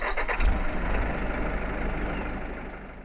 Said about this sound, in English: We then hear the engine of a vehicle start up.